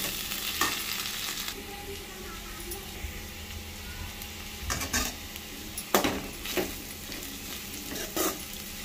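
Potato pieces fry in oil seasoned with salt and turmeric, giving a steady soft sizzle with intermittent spoon scrapes and stirring clinks against the pan, close and moderately quiet.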